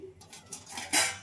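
Metal pots and pans clank and clatter as they are put away in a home kitchen, a few close, bright knocks that build to a louder crash at the end, with no talking.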